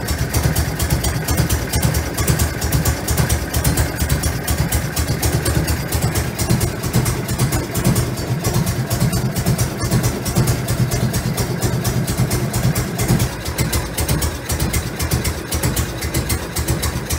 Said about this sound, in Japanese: アイドリングを調整します。